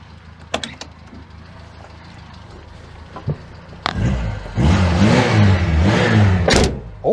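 A classic car named Foxann, just taken off choke, idles quietly with a few light clicks, then its engine roars into loud, sustained revving for about three seconds before dropping back, close by with no talk.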